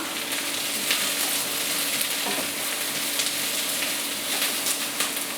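Sliced zucchini frying in a pan for vegetable lasagna, a steady close sizzle with faint crackles and occasional stirring, no voices.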